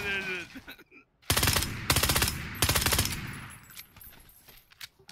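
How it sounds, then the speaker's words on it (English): Handgun fire in the PUBG video game: three quick bursts of rapid, loud shots after a brief pause, then fading echoes, with faint talk before. "Did you hear my little gun go off, man?"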